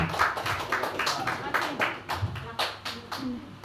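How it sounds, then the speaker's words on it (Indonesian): Scattered, uneven hand clapping from an audience at a school teachers' gathering honoring a colleague in a teacher training program, a few seconds long with voices talking over it. "Kita beri aplaus untuk teman kita."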